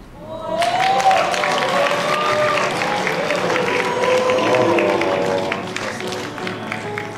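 Sustained, loud applause from a television talent-show audience at X-Factor Armenia, during the Four Chair Challenge, fills the space steadily, with voices and tonal sounds mixed in.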